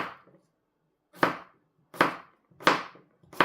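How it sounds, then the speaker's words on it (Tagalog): A knife slices a cucumber into thin squares, with four or five crisp, close chops on a board at an even, unhurried rhythm and silence between cuts. "itong cucumber, pipino, hiwain nyo guys ng ganito, square. Ganyan sa manipis."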